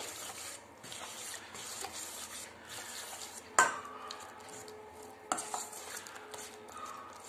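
A batter of ingredients and water being mixed in a bowl, heard as soft, steady stirring and sloshing close by, with two sharper clinks of the utensil against the bowl.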